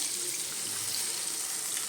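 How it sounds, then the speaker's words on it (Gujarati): About half a glass of water poured into a pan of cooking stuffed vegetables, a steady close rush of running liquid that holds an even level for the whole short stretch. "હાફ ગ્લાસ જેટલું પાણી"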